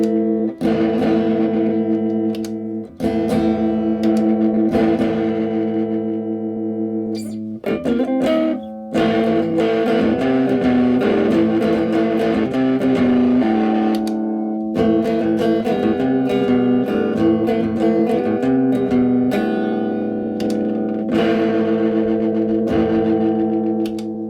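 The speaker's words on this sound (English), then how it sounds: "all of a sudden I can create distortion" A distorted electric guitar plays sustained, buzzing chords through an effects pedal, loud and continuous with brief breaks between phrases.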